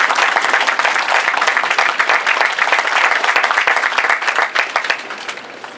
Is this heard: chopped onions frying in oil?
no